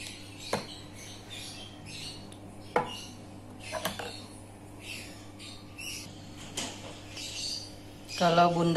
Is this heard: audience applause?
no